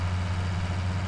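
Tractor engine in a farming video game labouring under a heavy trailer, a steady low drone with a strong bass hum and even mid-range rumble, continuous and close, with no talk over it.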